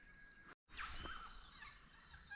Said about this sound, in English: That was a king parrot.